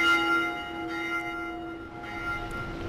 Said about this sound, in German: Okay, die Glocke läutet wieder.